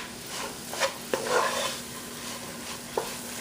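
Monthal mixture with butter being stirred in a pan, a continuous close scraping and stirring over a faint sizzle, punctuated by a couple of sharp taps of the spoon on the pan.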